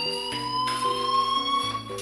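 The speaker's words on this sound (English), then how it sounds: "do you hear that fire alarm? That means you should be outside." A fire alarm in the game Life Is Strange rings continuously as a shrill electronic tone. Stepping lower tones play beneath it.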